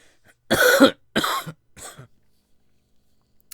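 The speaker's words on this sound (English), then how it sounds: "Shit. I just coughed." A few coughs in quick succession, two strong hacking bursts followed by a weaker one, close up, then quiet.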